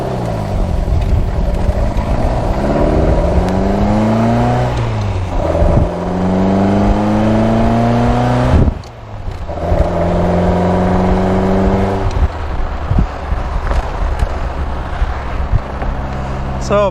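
A 1961 Triumph TR4 pulls away on a ride, its engine loud and close, rising through the gears with steady revving and brief dips at each shift, carrying on continuously throughout.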